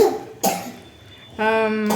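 A child coughs twice, sharp, close bursts separated by a short pause, followed by a brief voiced sound.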